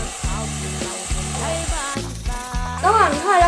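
A pork steak sizzling in a dry pan with no oil, a steady frying hiss running under someone talking close by throughout.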